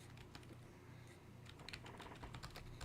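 Typing on a computer keyboard during a nightly stream: a continuous run of quick, uneven keystroke clicks, fairly close, over a low background hum, with no voices.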